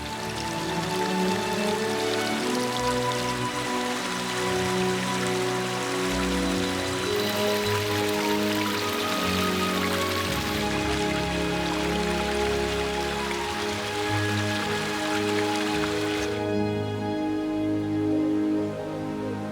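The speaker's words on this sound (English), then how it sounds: "The streams fill with rainwater and bring a magical touch to the forest with numerous waterfalls." Steady rain falls on a forest during a wet season, mixing with the continuous rush of swollen streams and waterfalls in a dense, unbroken wash of water sound with no voices.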